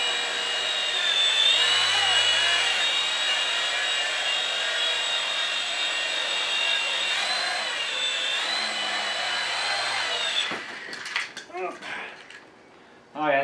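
An SH 6035 X2 Max RC helicopter flying indoors makes a steady high-pitched motor whine with a slightly wavering rotor drone for about ten seconds, then cuts to brief thumps and a voice.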